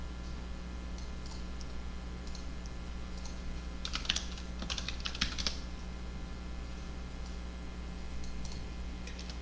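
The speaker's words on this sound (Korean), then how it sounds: "키보드에다가 이제 명령어를 두들겨서" Soft keyboard typing clicks in short scattered bursts, with a denser flurry of keystrokes in the middle, over a steady electrical hum.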